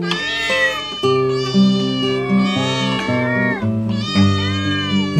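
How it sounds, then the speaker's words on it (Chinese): Several cats on a rooftop at night meow loudly and close, their yowling calls overlapping one after another in a dense, continuous chorus. "厝顶来一堆猫啊，大的、细、乌的、白、灰，拢徛起来对月娘喵喵叫"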